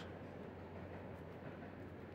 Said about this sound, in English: The train arrived just as we did